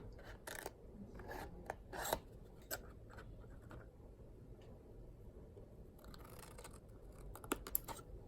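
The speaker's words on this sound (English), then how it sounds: "this little piece, you're just going to cut it off" Scissors snipping a small piece off a 12x12 paper sheet, a few quiet crisp cuts and light paper rustles spread across the stretch, close and faint.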